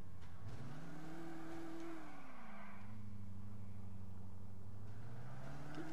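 A car engine in Grand Theft Auto IV hums steadily, rising in pitch as it accelerates, dips, then climbs again, with no voices over it.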